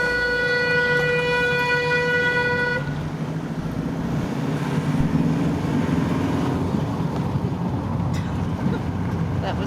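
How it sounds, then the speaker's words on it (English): A sustained, loud car horn blast on a busy Peruvian street lasts about three seconds, then gives way to dense traffic noise with engines and distant honks; voices talk faintly underneath. "That was Helen on the horn."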